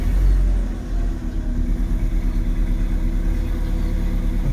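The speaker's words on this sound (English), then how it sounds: "it's a cold start, that's why the engine is really loud" A VW car engine idling loudly just after a cold start while parked, with a heavy low rumble that dips briefly and then settles into a steady, close, throbbing idle.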